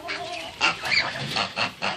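Farm poultry, geese or similar fowl, honking in a series of loud, irregular calls, several overlapping bursts at close range with no talk.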